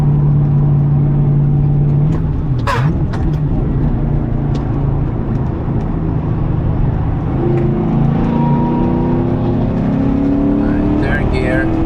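A Porsche 928 engine pulls and accelerates on the Nürburgring, a steady loud drone with rising harmonics heard from inside the car, while people talk over it throughout.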